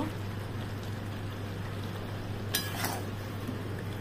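A lid lifted off a pot of chicken and potato curry, then a spoon scraping and stirring, giving a couple of short metallic clinks over a low steady kitchen hum, with no talking.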